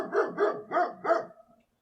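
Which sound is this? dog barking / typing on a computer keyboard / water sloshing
dog barking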